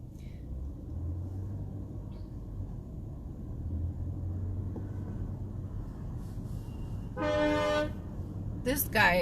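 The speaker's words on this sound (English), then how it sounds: "This guy literally has a truck horn and a Camry. So you hear that horn that sounds like a truck horn?" A Toyota Camry fitted with a deep truck-style air horn blasts twice near the end of the clip. The blasts rise sharply over a steady rumble of morning city traffic on an FDR Drive route in New York.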